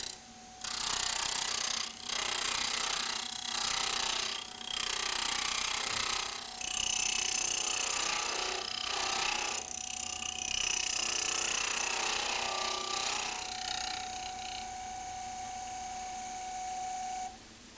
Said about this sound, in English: Slow the lathe down further as the wood is now more off centre.